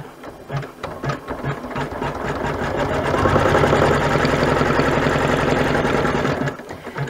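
An embroidery machine stitches a zippered coin purse in the hoop, a loud, steady, rapid mechanical chatter that runs continuously throughout and swells slightly in the middle before easing off at the end.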